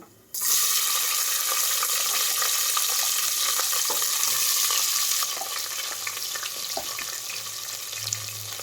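Onions sautéing in a pan for soya bean biryani start abruptly into a loud, dense sizzle that softens a little partway through, with scattered stirring clicks over the frying.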